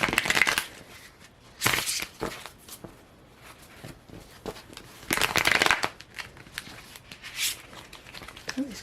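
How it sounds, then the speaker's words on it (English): Tarot cards being shuffled by hand in several short riffling bursts separated by quieter handling, close and crisp. "These cards are chaotic and do not want to shuffle."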